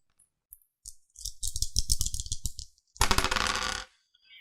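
Dice clatter and rattle across a table in a dungeon-themed tabletop board game, a series of close, crisp clicks followed by a louder burst of dice tumbling together, with no talk.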